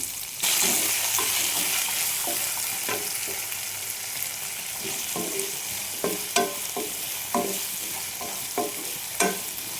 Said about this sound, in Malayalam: നമ്മൾ എടുത്തു വെച്ചിരുന്ന ഉള്ളി വെളുത്തുള്ളി ഇഞ്ചി ഇട്ട് കൊടുക്കാം ആവശ്യത്തിന് ഉപ്പും ചേർത്ത് നന്നായി വഴറ്റിയെടുക്കാം